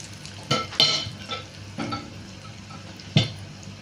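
Tempering spices with fenugreek powder and asafoetida fry in a pan for egg dal, under a faint sizzle punctuated by several distinct spoon scrapes and knocks against the pan.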